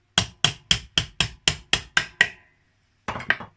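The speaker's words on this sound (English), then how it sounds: "A hammer." A hammer strikes the back of a knife blade nine times in a steady, even rhythm, each sharp clank ringing briefly, then after a pause three quicker blows follow.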